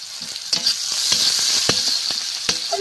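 Chopped onion, green chili and panch phoron spices sizzle in hot oil, a bright steady crackle broken by sharp pops and scraping stirs, close and alone.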